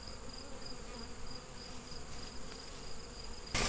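A steady, close buzzing hum of many honeybees crawling and swarming at the front of a hive, continuous and droning with no voices.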